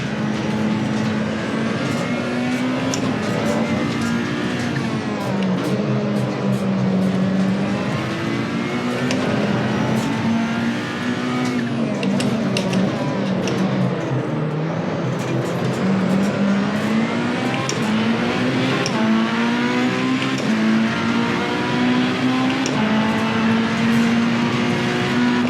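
Race car engines in the video game Assetto Corsa Evo, a loud continuous engine drone rising and falling in pitch as the car accelerates and shifts, with faint clicks scattered throughout.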